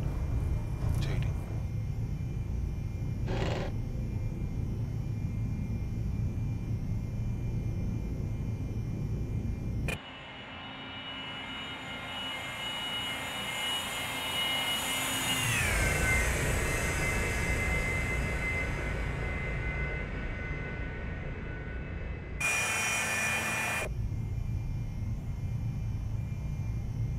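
Cessna Citation II business jet engines at takeoff in a flight simulator, a steady jet roar whose high whine sweeps downward mid-roll, with brief cockpit callouts.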